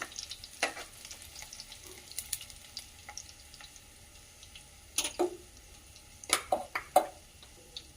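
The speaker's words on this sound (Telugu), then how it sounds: "ఎల్లిపాయలు మంచిగా ఫ్రై అయిన తర్వాత ఉల్లిపాయలు వేసుకోవాలి" Onions are added to hot oil after garlic has been fried, and they sizzle softly and steadily. A few sharper clatters of stirring and scraping stand out near the end.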